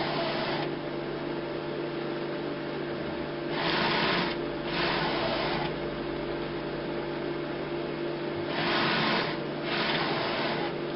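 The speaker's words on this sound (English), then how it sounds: "The noise we can hear, that's the priming pump just pumping the ink through." Priming pump in an HP Designjet Z3200 large-format printer pushing ink through its tube system, a steady mechanical whir with two louder surging bursts of pumping about halfway through and near the end, no talking.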